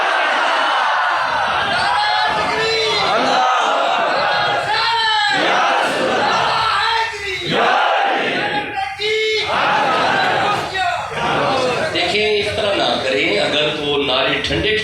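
A large crowd at an Islamic sermon in praise of Imam Husain chants religious slogans in loud, rhythmic waves of massed voices, with repeated shouted bursts running continuously throughout.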